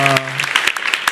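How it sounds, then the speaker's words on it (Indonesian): Audience applause breaks out at an Islamic religious TV show, a short burst of scattered claps following the tail of a spoken voice. "Tepuk tangan dulu dong."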